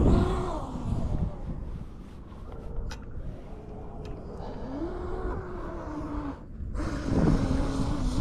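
A Traxxas UDR RC truck drives with a steady electric motor whine and shifting pitch, rising and easing as it accelerates, with rough terrain rumble underneath and no talk.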